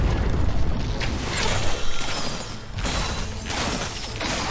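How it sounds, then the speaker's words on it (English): An enemy turret blows up in League of Legends: Wild Rift, a dense, booming explosion with rumbling bursts that swell and ebb over several seconds. "Enemy turret destroyed"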